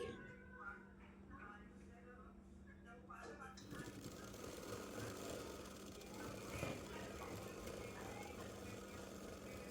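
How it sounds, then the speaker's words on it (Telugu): A sewing machine stitches piping onto a blouse, a steady buzzing whir that starts after a few seconds and runs on evenly at close range, while a person talks over it. "నేను మూడు స్టిచ్చెస్ వేస్తున్నానండి సేమ్ ఇటువైపు కూడా ఇలాగే వేసుకోవాలి"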